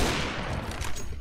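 A short, loud burst of gunfire in CS:GO, dense and crackling across just over a second of sustained shooting.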